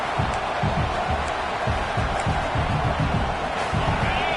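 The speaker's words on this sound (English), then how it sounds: "This crowd bringing the energy and noise early." Crowd noise at a Nebraska versus Notre Dame football game in the stadium, a dense, continuous roar of many voices with rhythmic surges, loud and steady throughout.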